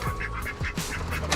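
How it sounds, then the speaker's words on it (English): A flock of ducks quacks repeatedly and loudly at close range, with a steady rhythm of honking calls over outdoor background noise. "Good morning, ducks."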